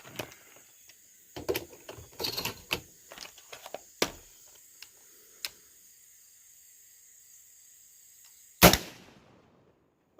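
A 12-gauge shotgun fires a single 3-inch Winchester 00 buckshot round outdoors, a loud sharp blast near the end after scattered small clicks and handling knocks.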